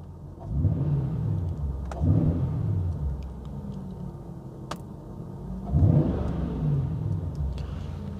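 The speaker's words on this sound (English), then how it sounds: "So I'm going to blip the throttle." A Jaguar XK engine idles close by and the throttle is blipped twice, each quick rev rising sharply and then dropping back to a low rumble.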